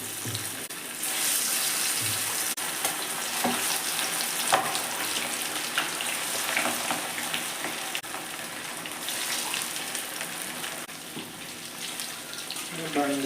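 Chicken pieces for chilli chicken frying in hot oil, a steady hiss and crackle that runs throughout at moderate loudness, with occasional soft knocks and clatter.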